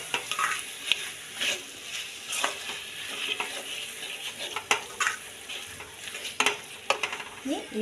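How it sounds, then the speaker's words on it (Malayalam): Chicken curry ingredients sizzle and fry in a pan while being stirred, with repeated sharp scrapes and clinks of the spoon against the pan over a steady close frying hiss. "എല്ലാം കൂടി നന്നായിട്ട് ഇളക്കി."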